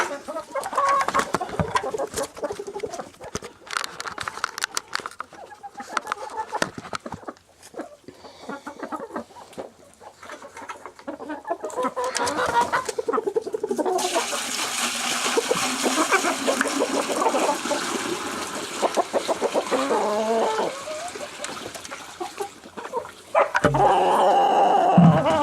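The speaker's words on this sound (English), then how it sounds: "That's some thirsty, thirsty chickens." Morning chicken coop with birds clucking near and far while they drink, plus splashing and dripping water and a dog-like bark now and then, the noise thickening toward a busy, louder stretch at the end.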